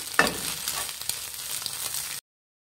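Scrambled egg frying in a pan for a butter garlic egg sandwich, a steady close crackling sizzle with a few scraping stirs, cutting off abruptly at the end.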